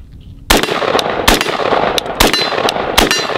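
Loud gunshots at a shooting training session ring out one after another at irregular intervals, sharp close cracks with a metallic edge following an abrupt first shot.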